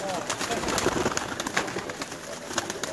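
Pigeons coo softly and repeatedly, with busy fluttering and shuffling noises around them.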